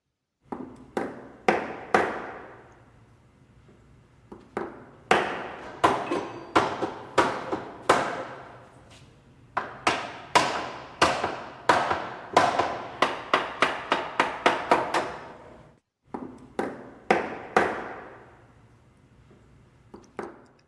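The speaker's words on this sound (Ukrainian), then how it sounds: "це стукає молоток" Repeated hammer blows on a hard surface, sharp knocks in quick bursts separated by brief pauses, close and loud.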